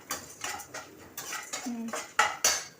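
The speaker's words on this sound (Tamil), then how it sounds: "பெருங்காயத்தூள் போட்டுட்டு நல்லா வதக்கணும்" Pirandai being stirred and sautéed with a spoon in a pan, giving several sharp metallic scrapes and clinks in an irregular rhythm, close and fairly loud, with no talking.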